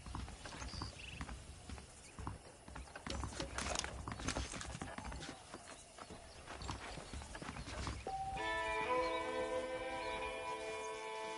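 Horse hooves clop at a steady walking pace over ambient outdoor noise, followed by a held musical tone entering near the end.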